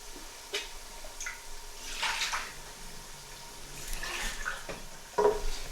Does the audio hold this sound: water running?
yes